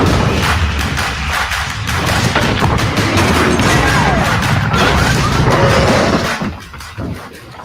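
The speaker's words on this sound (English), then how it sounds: "A nuclear explosion." A nuclear explosion roars as a sustained, dense rumble and crashing blast that fills the whole stretch, then drops off sharply near the end.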